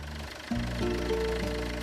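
A common rail diesel engine starts: brief low cranking, then the engine catches and settles into a steady, knocking diesel idle, close and moderately loud.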